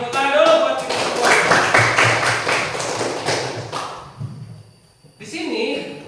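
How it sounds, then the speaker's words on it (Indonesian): Students in a classroom clap their hands together, a dense burst of close, loud claps lasting several seconds before thinning out and stopping, followed by a short stretch of voices. "tepuk tangan dulu buat kita semua"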